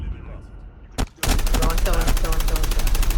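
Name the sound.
sniper rifle gunfire in video game Call of Duty Mobile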